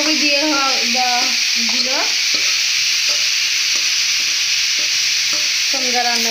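Cabbage frying in a pan with a loud, constant sizzle and soft rhythmic stirring taps, while someone talks over it close by.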